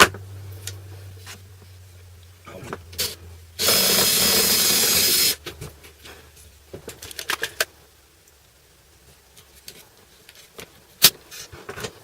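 A power drill bores holes into a motorcycle oil cooler cover in a workshop, a loud continuous whine lasting under two seconds, surrounded by scattered clanks, taps and handling of metal parts.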